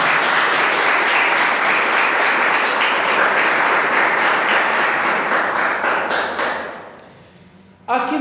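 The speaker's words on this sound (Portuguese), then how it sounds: "glorifique a Deus com as suas palmas" A church congregation claps hands in praise, a loud sustained burst of many hands that fades out near the end, followed by a short sharp sound as the room goes quiet.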